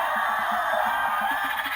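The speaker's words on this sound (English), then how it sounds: "another screeching sound from the Dimorphodon" A Dimorphodon toy from a Mattel Jurassic World set gives a repeated shrill electronic screech, with short rhythmic squawks pulsing steadily throughout over a bright, continuous hiss.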